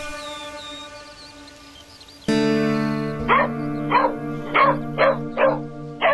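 Several dogs bark in a rapid series of sharp, loud barks, about six in a row, over a sustained musical tone in a drama scene.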